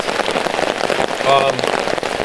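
Steady rain pattering on a camping tarp, a close and dense hiss of drops that carries on without letup through the whole brief stretch.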